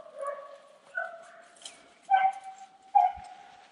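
Rabbit hunting dogs bay and yip in the field, a few short barks and whimpering cries spaced over a few seconds, heard at a moderate distance with no talk.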